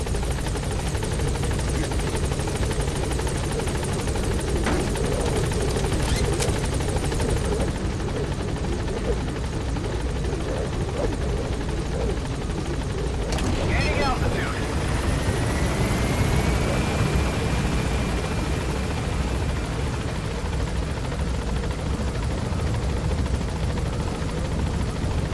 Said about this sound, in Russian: вертолет уже прилетел, давайте заберемся туда